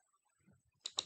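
Two sharp computer mouse clicks close together near the end, crisp and near, after a brief stretch of near silence with faint low rustling.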